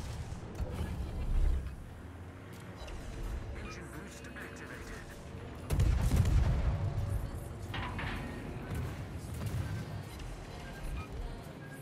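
Naval guns booming in World of Warships destroyer gameplay: heavy broadband blasts stand out near the start and again midway, over a continuous rumble of battle noise, with a voice talking beneath.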